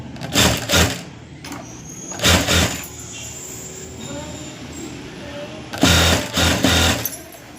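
A sewing machine stitches a half-inch fold on a skirt in three loud bursts of running, separated by quieter pauses with faint handling noise.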